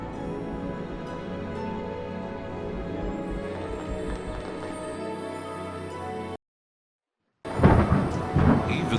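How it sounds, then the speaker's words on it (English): Stormy weather in the Harry Potter and the Prisoner of Azkaban PC game: a steady wash of rain with low rumbling thunder, a brief silent gap, then a louder, harsher burst of storm noise. "the following morning was stormy and foul"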